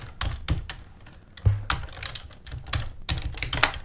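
Keys clatter on a computer keyboard in quick, uneven bursts of clicks, close and fairly soft, with no talking over them.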